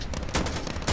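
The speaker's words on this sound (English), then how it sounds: "so now I'm shooting there" Rapid gunfire from the co-op video game Insurgency: Sandstorm, a short burst of loud, close shots packed into about a second.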